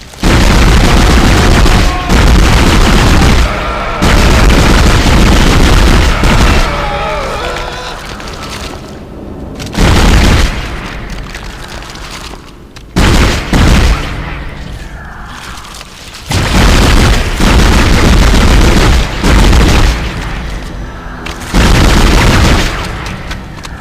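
Dead Space game combat with contact beam weapon shots and heavy booming explosions, loud repeated blasts separated by quieter gaps of rumbling ambience.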